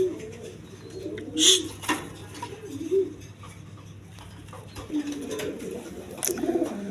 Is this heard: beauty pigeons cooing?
yes